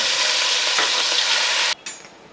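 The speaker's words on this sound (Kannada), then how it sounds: "ಈಗ ಎಣ್ಣೆ ನೋಡಿ ಒಳ್ಳೆ ಬಿಸಿ ಆಗಿದೆ. ಸೊ ಈಗ ನಾನು ನಮ್ಮ ಚಿಕನನ್ನು ತೆಗೆದು ಮೆಲ್ಲ ಹಾಕ್ತೇನೆ" Chicken pieces for Andhra chilli chicken slide into very hot oil, raising a loud, continuous sizzle and crackle that fills the clip, briefly dips, then surges again.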